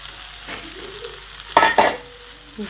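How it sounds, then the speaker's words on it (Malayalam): Bitter gourd pieces are stirred in hot oil in a pan, giving a quiet sizzle that bursts into two loud scraping, crackling stirs midway and then settles back to a low fry. "നല്ലോണം മിക്സ് ചെയ്യട്ടെ കയ്പൊക്കെ ഇട്ടിട്ട് ഒരു ഒന്ന് രണ്ട് മിനിറ്റ് നല്ലോണം നമുക്ക് മിക്സ് ചെയ്ത് കൊടുക്കാം"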